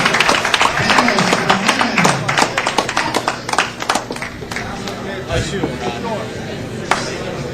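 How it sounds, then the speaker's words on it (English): Scattered hand claps and taps from a billiards hall crowd at a pool match, loud and irregular, mixed with a speaking voice and ambient room noise. "let's make a nice round of applause"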